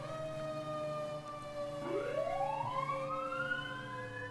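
Fire truck siren from a responding quint ladder truck in Montgomery County, a rising wail sweeping upward over the steady engine drone inside the cab, loud and continuous.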